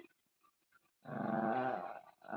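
A small dog growls in a single sustained, fairly close rumble that lasts about a second and a half, after faint scattered sounds.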